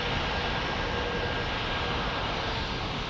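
A British Airways airliner from Norfolk passes near San Diego, giving a steady broadband engine roar that holds loud and even from start to finish, with no talking.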